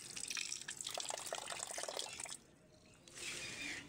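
Water poured over pieces of roti to soften them, a loud rushing splash for about two seconds, a short pause, then a second quieter stream of pouring.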